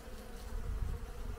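Honey bees at a beehive buzzing in a steady, low, close drone for a brief moment, with no talk.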